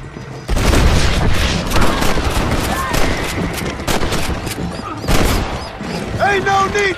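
Gunfire in the Western video game Red Dead Redemption: dense bursts of rapid gunshots and booms, loud and near, continuing throughout, with voices speaking over the shooting.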